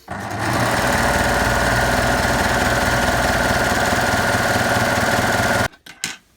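A Baby Lock overlocker running fast while sewing a wave stitch onto terry cloth, a loud steady mechanical whirr that starts abruptly, holds for about five seconds, then stops with a few small clunks.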